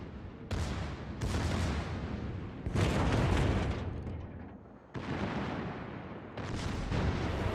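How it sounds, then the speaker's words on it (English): Heavy naval gun salvos from the French cruiser Bourgogne in ranked World of Warships battle, several loud booming volleys in a row with rumbling tails, close and dominant, no voices. "very nice salvo there"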